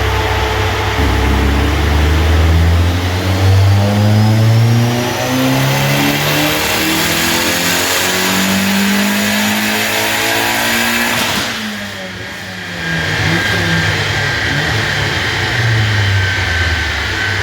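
VW Golf 2 GTI 16V turbo engine revving hard on a dynamometer, loud rising sweeps through the gears, a brief dip, then climbing again.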